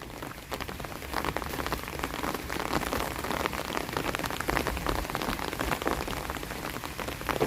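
Steady rain pours down onto a hard surface, a dense, continuous patter close by with no voices.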